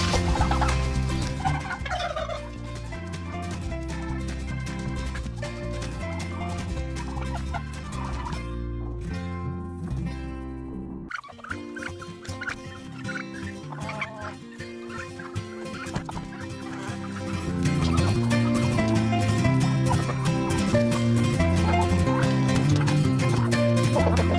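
Turkeys gobble repeatedly in a noisy, busy winter yard, their rattling calls overlapping throughout with a brief lull partway through.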